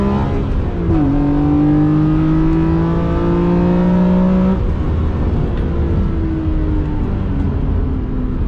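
A BMW E46 M3 with a CSL airbox revs up loudly with a rising induction roar, holds high, then drops off at about four and a half seconds and settles into a steady drone.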